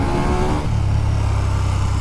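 A 2020 KTM 1290 Super Duke R motorcycle on the move, its engine droning loud and close, the pitch shifting midway as the rider changes gear, with steady wind and road noise underneath.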